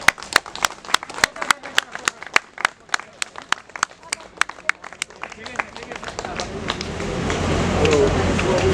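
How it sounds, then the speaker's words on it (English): Applause rises at a Gurkha rally as a speaker is welcomed. Sharp, separate hand claps come close and loud at first, then thicken into a building wash of crowd clapping, and voices are present throughout. "Round of applause."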